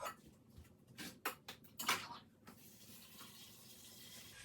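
Water runs from a tap into a pot of potatoes, splashing in a few uneven bursts before settling into a steady, quieter pour.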